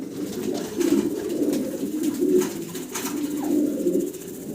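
A pair of fancy pankhi pigeons coo steadily at close range, their low throaty rolling calls repeating in overlapping waves, with no voices.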